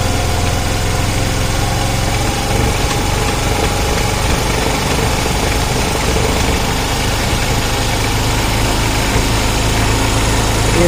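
Honda Activa scooter engine running steadily and loud close up during carburetor air-fuel mixture adjustment, a continuous dense mechanical drone with no clear pauses.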